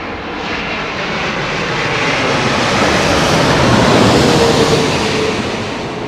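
An airliner on final approach to London Heathrow, with a loud, continuous engine roar that swells gradually toward the middle before easing slightly, heard alone without voices.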